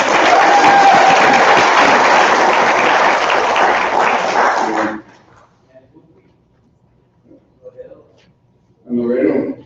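An audience at a summit gives loud, dense applause for about five seconds. It stops abruptly into near silence, and then a voice begins speaking.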